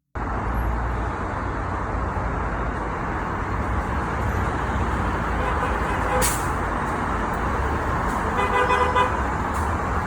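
Steady roar of busy Toronto street traffic, a dense continuous wash of passing vehicles with a brief sharp horn-like burst midway and faint tonal beeps near the end, under a voice speaking.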